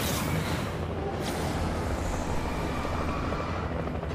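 Helicopter in the Alan Wake video game, a loud continuous broadband rotor roar with a steady rumbling wash that fills the scene without pause, alone with no talking.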